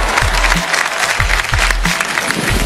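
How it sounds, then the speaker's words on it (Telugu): Studio audience on the Telugu reality show Bigg Boss claps together in a sustained burst of applause, dense and loud, filling the whole stretch with no speech over it. "చెప్పిన తర్వాత ఆడియన్స్ అందరూ క్లాప్స్ కొడుతున్నారు."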